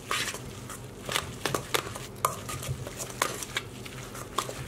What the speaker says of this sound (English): Now we'll just give this a quick mix all together.